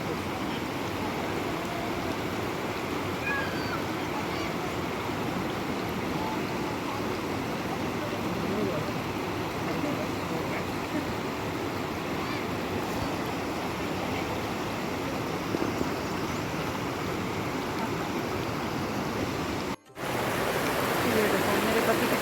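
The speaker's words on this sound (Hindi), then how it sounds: "ये देखिए झरना है, वाह बहुत ही अच्छा लग रहा है" A waterfall at Baba Dhansar near Katra pours in a dense, unbroken rush, loud and close, with a brief dropout near the end; a voice can be heard faintly beneath it.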